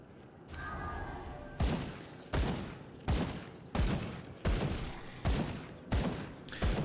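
Seven heavy gunshots from the video game Grim Dawn fire in an even, steady rhythm about every three-quarters of a second, each a loud booming blast with a brief tail over a low rumble.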